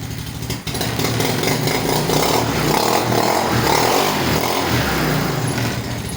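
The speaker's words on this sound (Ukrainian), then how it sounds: "Карбюратор в мінус 2 після капіталу. Джок, можна сказати, ідеальний." Jog scooter's small two-stroke engine, just rebuilt, idles steadily after a cold start at minus 2 degrees, a close, loud, buzzing drone with a slightly uneven rhythm throughout.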